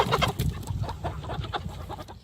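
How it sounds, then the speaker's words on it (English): Chickens cluck busily inside a chicken tractor as it is moved across a field, a close, continuous run of overlapping clucks over low rumbling and rattling. "he's moving the chicken tractor here"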